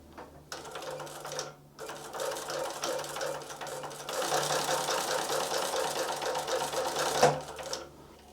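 A Typical TW3 343D heavy-duty industrial cylinder-arm walking-foot sewing machine runs steadily and loudly close by, with a continuous mechanical clatter that briefly pauses near the start and surges near the end. No one speaks.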